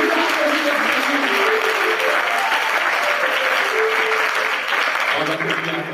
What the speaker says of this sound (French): Tu peux applaudir le Seigneur.